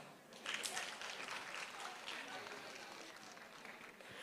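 An audience at a parenting development session claps briefly, a faint, moderately dense patter of applause lasting a few seconds.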